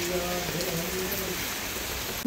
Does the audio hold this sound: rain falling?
yes